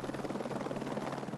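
A helicopter's rotor thumps in a rapid, steady beat over a droning engine, fairly close and continuous, at the 2013 Dakar Rally.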